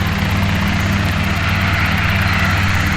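A Guimbal Cabri G2 helicopter engine runs steadily and loudly up close, a continuous dense roar with a low rhythmic rotor thrum and no breaks.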